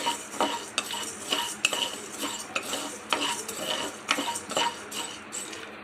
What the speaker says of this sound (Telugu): ఇలా మిరియాలు వేసి ఒక 2 మినిట్స్ ఫ్రై చేసుకున్న తర్వాత